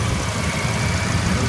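A Toyota car engine idles steadily after an ignition coil check, a continuous low rumble with an even mechanical drone and nothing else over it.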